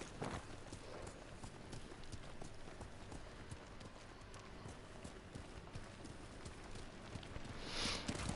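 Horse hooves drum in a steady gallop in the video game Ghost of Tsushima, faint and continuous over low game ambience, with no speech.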